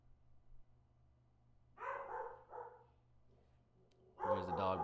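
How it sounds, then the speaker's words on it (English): Dog barking in the background indoors: two short bursts of muffled barking, the second louder and held longer, with a voice speaking nearby. "There's the dog barking in the background."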